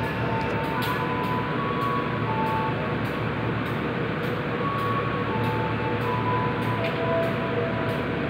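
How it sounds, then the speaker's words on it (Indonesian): Passenger train at a station in Indonesia, a steady loud rumble and hum of the carriages idling at the platform, with faint periodic clunks and no talking. "Rangkaiannya berhenti di stasiun untuk melakukan"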